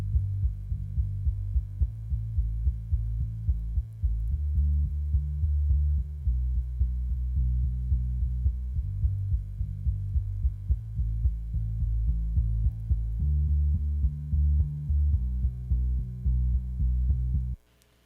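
A deep, low bass guitar line plays alone, sustained notes shifting pitch in a steady pattern, warm and rounded with little high end, ending abruptly.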